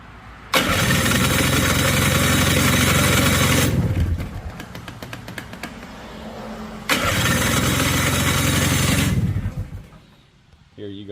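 A Honda FL250 off-road buggy engine cold-starts and runs loudly close by for about three seconds, drops to a rougher lower idle, then revs up again before settling.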